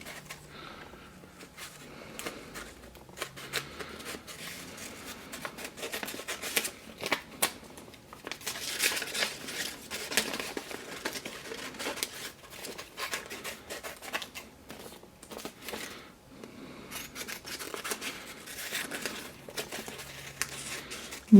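Scissors snip through paper cut-out shapes in a craft lesson, a long run of irregular close crisp cuts mixed with paper rustling and crinkling, with no talking.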